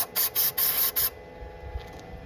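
Four short bursts of starting fluid sprayed into a 1981 Ford Courier engine, hissing in quick succession and close by, followed by quieter rustling and handling noises.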